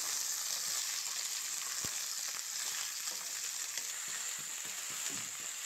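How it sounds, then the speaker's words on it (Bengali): Potatoes frying in a pan with nigella-seed tempering and spices, a steady close sizzle broken by occasional soft scrapes and knocks of stirring, with no talking. "আলুগুলো দিয়ে দিলাম। এবার একটু নেড়ে নেব সব কিছুর সঙ্গে।"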